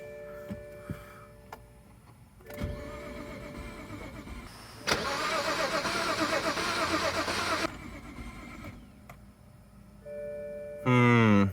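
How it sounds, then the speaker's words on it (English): A BMW 535xi wagon that has been sitting unused is cranked with its starter button, giving a few short bursts before a long loud churning stretch, then quieter idle-like running and a final loud surge near the end. "I'm just gonna go ahead and press the starter button. Might as well see if it turns over, see if it starts"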